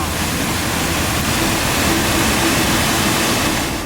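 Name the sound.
waterfall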